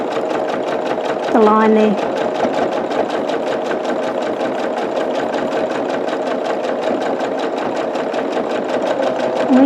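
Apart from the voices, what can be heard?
sewing machine stitching a string quilt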